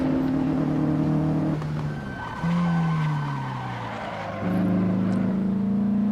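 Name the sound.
race car engine in racing video game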